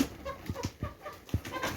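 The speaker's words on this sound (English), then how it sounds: "See the chicken." A chicken recovering from diarrhea gives a few faint, soft clucks spaced irregularly over a quiet background.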